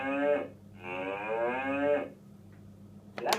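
Toy cow moo from a children's animal toy, two long drawn-out lowing calls with clear harmonics, loud and close, followed by a short click at the end.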